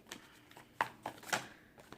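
Tarot cards being shuffled by hand, a handful of soft riffling swishes and taps at uneven intervals, close and quiet with no talking.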